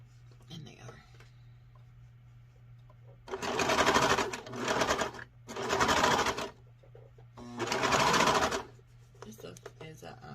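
A twin-needle sewing machine stitches thick sweatshirt fabric in three loud, steady bursts of whirring stitching separated by short pauses, with quiet handling sounds and a low hum in between.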